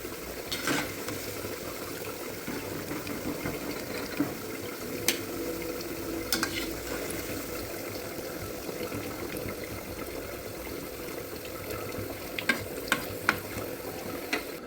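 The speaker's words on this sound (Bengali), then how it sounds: "পেঁয়াজগুলো লাল লাল করে ভাজা হয়ে গেছে" Sliced onions fry in oil in a kadai, giving a steady, close sizzle and crackle with occasional sharp clicks and scrapes, and no voices.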